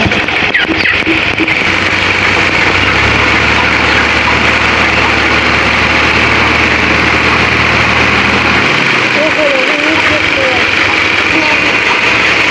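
A tractor engine runs steadily and loudly near the microphone, a continuous low rumble with a droning hum. Voices talk over it.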